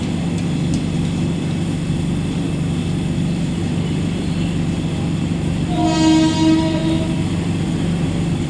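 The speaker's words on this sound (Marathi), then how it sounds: "प्लॅटफॉर्म क्रमांक 2 पर आई हुई लोकल 11 बजकर 13 मिनट की कुर्ला जाने वाली" A Mumbai slow local bound for Kurla pulls into platform 2 at night with a steady, heavy rumble, and a short tonal horn blast sounds near the end.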